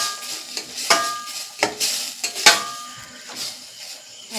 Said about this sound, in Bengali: এবার সম্পূর্ণ মশলাটাকে ভালো করে কষিয়ে নেব।